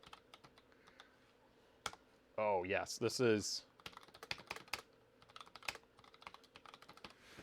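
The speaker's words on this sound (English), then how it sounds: "this is a mechanical keyboard, and this thing is awesome" Typing on a mechanical keyboard with Cherry ML switches, sparse sharp key clicks scattered throughout, interrupted midway by a brief spoken exclamation.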